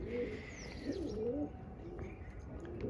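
A pigeon coos in low, rolling phrases near the listener, with faint chirps and steady background noise around it.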